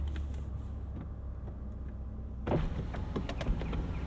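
Bentley Continental GTC convertible soft top starts lowering with a sudden electric motor whir and mechanical clicks after a quiet interior hum, the mechanism running steadily for the last seconds.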